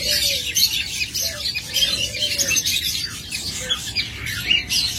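Pet birds in a breeding setup squawk and chirp continuously, a dense chorus of sharp overlapping calls close by with no talking.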